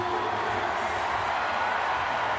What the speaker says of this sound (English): he's happy to hear the cheer of the crowd